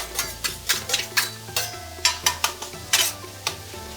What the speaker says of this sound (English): This is stir fry. This is hibachi style.